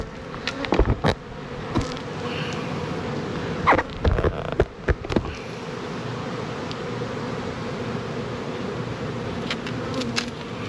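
Honey bees buzz steadily around an open beehive nuc during a summer hive inspection, a continuous close droning hum with a few louder bumps and knocks near the start.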